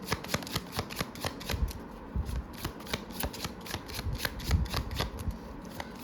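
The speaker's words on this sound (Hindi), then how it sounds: "थोड़ा सा बस शफल कर ले हम" Tarot cards are shuffled by hand in a fast, even run of soft riffling flicks, close and alone with no talking.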